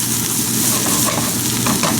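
Vegetables sizzle loudly in a hot wok as they are stir fried for noodles, with a dense, constant hiss and occasional scrapes of stirring throughout.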